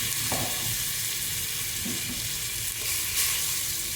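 Ginger paste sizzles loudly in hot oil for a tripe curry fry, a dense, continuous frying hiss close up with a little stirring and no voices.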